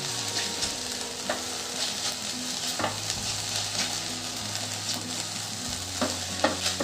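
Sago pearls being sautéed in a pan for a sweet fasting dish, a constant bright sizzle with intermittent stirring scrapes and clicks of the spoon, close and busy with no voices.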